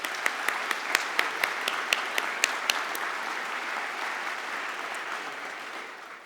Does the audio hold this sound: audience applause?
yes